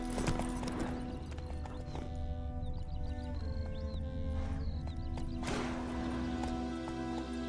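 Hooves of the horse Roach clip-clop in a steady galloping rhythm in The Witcher 3, with occasional whinnies over a continuous game soundtrack and ambient wind, close and moderately loud throughout.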